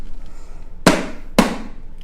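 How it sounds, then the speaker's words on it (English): A paint container is banged twice on the floor to open it, giving two loud, sharp impacts about half a second apart, each with a short ringing decay over a quiet indoor background. "Pro tip, if you can't get it open, bang it on the floor."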